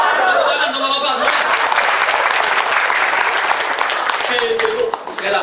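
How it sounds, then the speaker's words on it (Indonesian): A seminar crowd applauds the gentlemen at a sales training kickoff, loud, dense clapping swelling in after a voice and holding steady for several seconds before fading, with a speaker talking at the start and again near the end. "Tepuk tangan untuk bapak-bapak."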